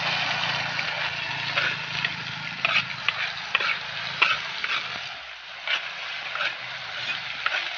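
Food frying in a pan over a fire outdoors in a village: a steady sizzle runs throughout, broken by scraping stirs and crackling pops, with faint talk in the background.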